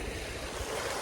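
Sea waves washing during a fishing trip out at sea, a constant loud surf rush blended with wind buffeting the microphone, close and unbroken with no talk.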